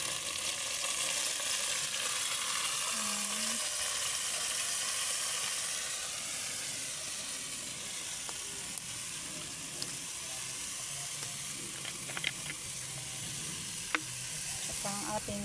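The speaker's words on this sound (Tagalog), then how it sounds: "lalagyan natin na ng toyo" Steady loud sizzle of soy sauce hitting a hot frying pan, a continuous bright hiss with faint clinks of stirring toward the end.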